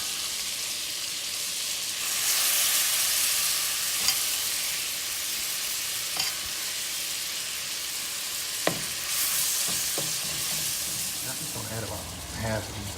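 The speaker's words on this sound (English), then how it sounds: "Go ahead and drop this meat in." Chicken pieces for orange chicken sizzling in a hot pan, a steady close hiss that swells as the meat goes in, with occasional clinks and stirring.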